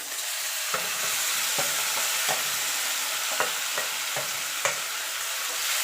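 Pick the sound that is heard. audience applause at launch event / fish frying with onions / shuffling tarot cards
fish frying with onions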